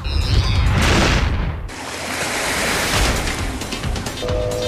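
Loud ocean surf at Panglao Island beach in Bohol, a steady broad wash of breaking waves with a sudden surge partway through, close and continuous with no voices.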